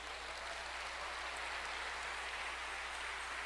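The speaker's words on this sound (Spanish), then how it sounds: "Démosle palmas al Señor." A church congregation claps their hands during a service, a dense, steady wash of applause that holds evenly throughout with no voices on top.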